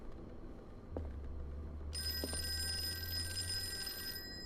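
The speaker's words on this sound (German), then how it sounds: "Das Telefon klingelt." A telephone rings in the Call of Cthulhu video game, starting partway through as a bright, sustained electronic ring over a low hum and faint background tones, loud and alone with no talk.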